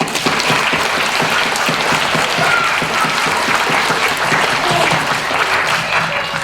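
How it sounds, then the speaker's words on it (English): A live children's puppet theater audience gives a big, dense round of applause that holds steady and loud for several seconds. "let's give you, the audience, one of those big thank you rounds of applause."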